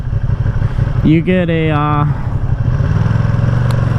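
The twin-cylinder engine of a 2020 Ducati Panigale V2 sport bike runs close by with a brief rising rev in the middle, while someone talks over it.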